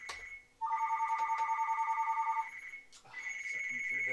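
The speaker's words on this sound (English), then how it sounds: "Oh, we got a phone call." A telephone rings with a warbling electronic trill in two bursts separated by a short pause, loud and close over faint background noise.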